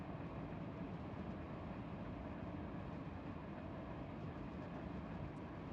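A long freight train in the Run 8 Train Simulator game rolls down a steep grade, giving a continuous low rumble with dense rapid rail clatter, steady and fairly quiet throughout.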